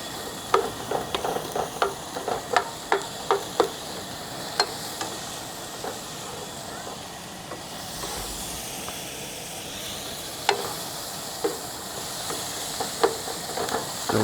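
Food sizzles in a pan at a campsite, stirred with a utensil that clinks and scrapes in irregular bursts over a constant frying hiss.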